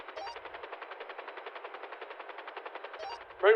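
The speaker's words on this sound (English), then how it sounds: "We're taking heavy fire!" A machine gun fires a long, even, rapid burst in a GTA roleplay game, steady rhythmic shots at moderate distance, ending with a brief louder sound.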